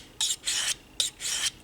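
A knife blade is drawn across a Smith's 325 diamond sharpening stone in four close, rhythmic rasping strokes, each a gritty scrape separated by short pauses, heard alone without talk.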